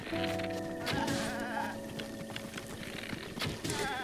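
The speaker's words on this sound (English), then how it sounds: "Oh, there's a goat." A goat bleats in a wavering, nasal cry in the video game Breath of the Wild, calling twice against a buzzing, insect-like ambient background at moderate volume.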